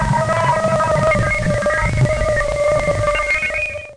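A space probe recording from a flyby of Ganymede, Jupiter's moon, pitched down to audible range: a dense, steady wash of eerie tones and whistles over rumbling noise, continuous and loud throughout.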